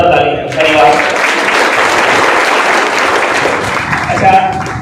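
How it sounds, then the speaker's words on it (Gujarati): A crowd at a business gathering claps loudly for the traders present, a dense, steady burst of applause lasting several seconds with a few voices mixed in. "તો વેપારી મિત્રો માટે એકવાર જોરદાર તાળી."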